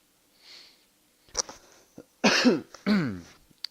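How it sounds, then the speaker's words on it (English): A person with an itchy throat coughs during a game stream: a soft throat sound, then a short cough followed by two louder, harsher coughs close to the microphone. "Got a little bit of an itchy throat. I hope I'm not coughing through the stream, through everything."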